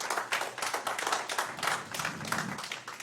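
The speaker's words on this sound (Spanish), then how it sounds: "dale un aplauso fuerte al Señor" A church congregation claps loudly for the Lord, a steady rhythmic patter of many hands close by, with no talk over it.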